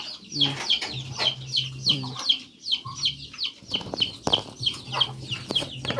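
A group of chickens clucks and chatters continuously nearby, overlapping calls with a few louder squawks and a faint voice in the background.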